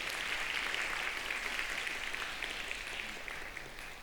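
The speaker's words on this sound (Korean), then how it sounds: "우리 박수로 환영하면 좋겠습니다" A church congregation at a Sunday youth worship service claps to welcome visiting guests, soft, diffuse, continuous applause heard from a distance and fading slightly toward the end, with no talking over it.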